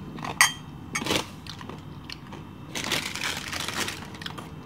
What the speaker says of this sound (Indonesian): Ini udangnya, saya makan udangnya.